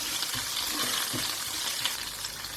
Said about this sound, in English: To the same pan, I am going to add my cumin seeds.